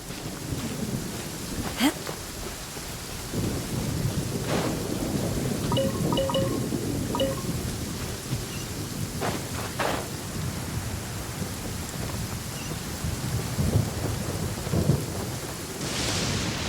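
A video game thunderstorm: steady rain hiss with repeated rumbling thunder claps and sharp lightning cracks spread throughout, loud and continuous, with faint game sounds in the background.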